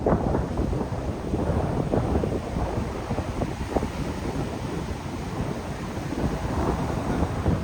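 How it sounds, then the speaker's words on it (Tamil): Rain and a thunderstorm sweep over an outdoor cooking spot in Sri Lanka. Heavy, continuous rushing and low rumbling fill the clip, with gusts of wind buffeting the microphone. "இங்கே வந்தால் இங்கேயும் மழை ஸ்டார்ட் ஆயிடுச்சு"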